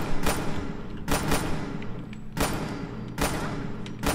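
Gunshots from a laser musket and other guns fired indoors in modded Fallout 4 with a reverb mod, four loud booming reports with echoing tails spaced about a second apart, no talking.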